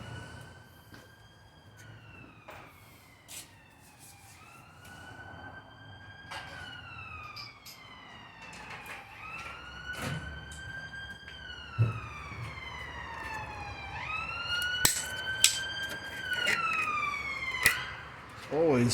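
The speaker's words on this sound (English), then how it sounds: "Always sirens going off around here." Wailing emergency sirens rise and fall repeatedly at a moderate distance, with several overlapping tones growing louder toward the end over background noise.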